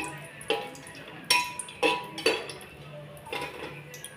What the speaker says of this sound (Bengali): একটু গরম মশলাগুলো এরকমভাবে নাড়াচাড়া করে নিচ্ছি।